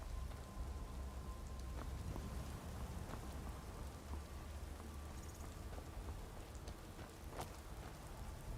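Quiet, steady rainfall with scattered drops and a low rumble of thunder underneath in the video game Skyrim VR, distant and continuous, no voices.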